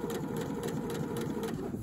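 A sewing machine runs steadily, stitching fabric around a curve in a close, continuous rapid mechanical whir with a regular needle rhythm.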